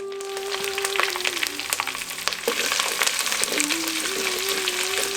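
Cumin seeds, curry leaves and dried red chillies sizzle and crackle steadily in hot oil for a Tamil Nadu chicken chinthamani, with occasional stirring scrapes and a tonal hum in the background.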